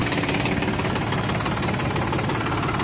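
A Kartar tractor engine runs at a steady, close idle, a continuous low mechanical throb with a slight knocking texture and no voices.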